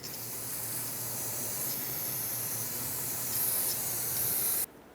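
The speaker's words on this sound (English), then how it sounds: "Clean everything off with brake parts cleaner." Brake parts cleaner hisses from an aerosol can in a steady, close spray while servicing the rear brake calipers on a Ford E-350, running for several seconds before cutting off abruptly.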